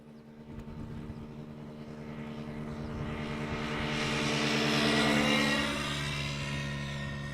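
An airliner arriving from Dubai at Amsterdam Schiphol Airport, a distant rumbling jet roar that swells gradually and then eases slightly as it passes, heard alone.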